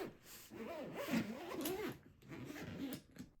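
Zipper on a Boss CB-EG20 semi-rigid guitar case being pulled along its track, several close, quiet rasping runs with short pauses between strokes.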